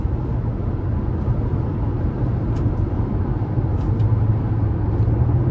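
A 2024 Toyota RAV4 XLE Premium's 2.5-litre four-cylinder revving high while driving, a steady loud cabin roar with road noise that holds level throughout, no talking.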